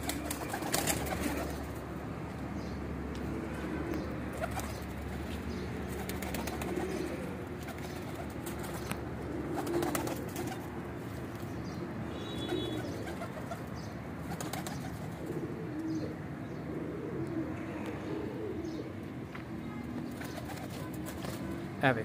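Female breeder pigeons in a loft coo softly and intermittently, low and fairly quiet, with occasional faint wing flutters and a voice speaking now and then in the background.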